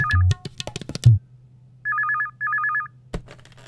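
A landline telephone rings in a film scene, with two trilling electronic bursts in quick succession after a few short clicks and tones, followed by a sharp knock.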